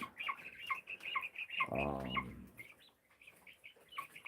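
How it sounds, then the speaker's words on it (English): Farm chickens, including Rhode Island Reds and Australorps, cluck and chirp in short repeated calls, with a brief louder squawk in the middle, fairly close and moderately loud, no talking. "I've got quite a few chickens, William."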